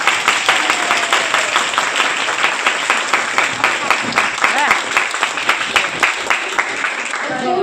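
A school audience at a Hindi Day celebration claps in thanks, a steady patter of many hands with rhythmic bursts running throughout, while a voice carries over the clapping.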